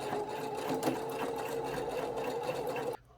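A sewing machine stitches free-form embroidery on organza backed with soluble stabilizer, running as a steady close mechanical whir before cutting off abruptly near the end.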